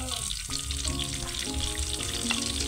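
Onions frying in butter in a pan, a steady dense sizzle with crackling and occasional stirring scrapes, close and continuous for a few seconds.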